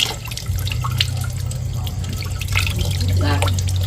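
Small frogs are rinsed in water, with splashing, dripping and trickling sounds as they are washed clean for a frog soup, while someone talks over the wet handling noises.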